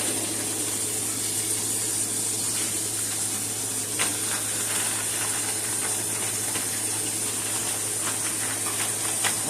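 Battered prawn bites frying in oil in a pan, a constant bubbling hiss with a steady low hum beneath and faint pops, even and unbroken throughout.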